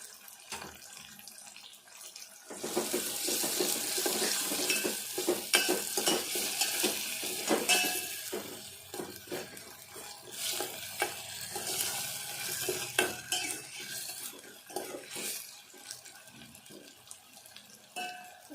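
Ginger garlic paste fries and gets stirred in a pan for potato biryani, a steady loud sizzle with repeated scraping strokes of the spoon, close by and with no talk.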